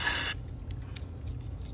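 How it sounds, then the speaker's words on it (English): A short, loud burst of aerosol spray hisses close by onto a Briggs & Stratton lawn mower carburetor for a fraction of a second, then cuts off, leaving a low engine-like rumble with a couple of faint clicks. "I'm just gonna go ahead and spray the carburetor."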